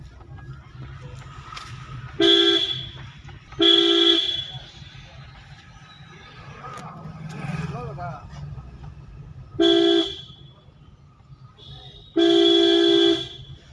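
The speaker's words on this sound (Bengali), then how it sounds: "হর্ন মারো" Four long, loud horn blasts sound close by, each lasting over a second, separated by quieter stretches of engine hum and faint voices.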